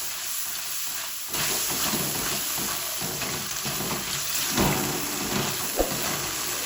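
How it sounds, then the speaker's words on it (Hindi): Gram flour roasting in hot oil for a bitter gourd curry, a steady close sizzle and fry with scraping stirring strokes throughout, no talking. "बेसन डाल के आपने 2-3 मिनट भुनाई करनी है कि आपका बेसन जो वो अच्छी तरह पक जाए"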